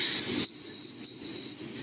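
A fire alarm sounds inside a residential flat as a loud, steady high-pitched electronic tone that starts abruptly and continues with brief dips to the end.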